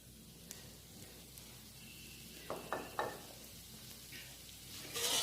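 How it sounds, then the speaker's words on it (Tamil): Coconut oil sizzling in a pan while ragi dosa cooks, a steady soft crackle with a few brief louder bursts of spatter and stirring, heard close and alone without voices. "நான் கோகனட் ஆயில் தான் விடுறேன்."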